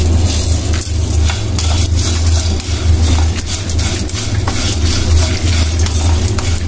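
Mace (javitri) dry-roasting in a pan for homemade garam masala, a steady dense scraping and rustling of stirring with a light crackle over a continuous low hum, close and fairly loud, no talking.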